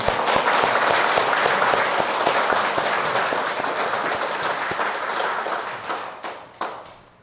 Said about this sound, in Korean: 그분들을 위해서 우리도 한 박수를 한번 칩시다.